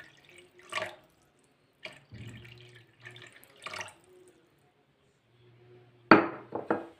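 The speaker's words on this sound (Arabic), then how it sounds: "غاد نخويو عليهم الماء، غتكبوا الماء" Water poured into a cooking pot over oil while making a simple Turkish dish, heard as a few soft splashing bursts and trickles, the loudest pour near the end.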